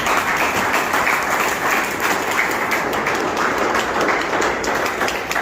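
An audience at a stage dance event claps enthusiastically, dense continuous applause from a crowd filling the whole stretch at a loud, even level.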